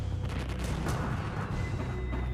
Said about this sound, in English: the firefighters are forced to stand back as thousands of fireworks explode and spray the surrounding